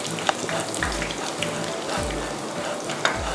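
Thung thong, small Thai golden-pouch pastries, deep-frying in hot oil, giving a steady close sizzle and crackle with light pops scattered through it and no voices.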